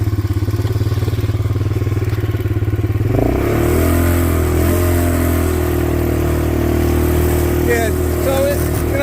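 A 150cc Chinese ATV engine idling with a rattly buzz, then revving up as the quad pulls away and rides, loud and close with a constant rough drone and mechanical clatter throughout.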